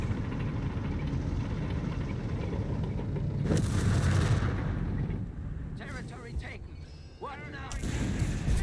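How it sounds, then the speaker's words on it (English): Artillery in the Company of Heroes 3 strategy game, with mortar and pack howitzer fire, booms and rumbles in a dense, loud barrage that swells and fades, with shell whistles and blasts near the end. "Artillery fire from Nath."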